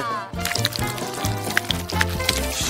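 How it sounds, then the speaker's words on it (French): Warm Nesquik chocolate cocoa drink poured over a person in a playful challenge, a close, continuous splashing pour with repeated liquid spatters, and voices briefly heard in the background. "Une bonne douche au chocolat."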